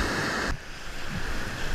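Choppy ocean surf washing onto a beach, a close, loud steady rush of breaking waves with wind noise buffeting the microphone.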